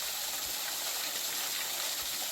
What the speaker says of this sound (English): we're over by the small waterfall here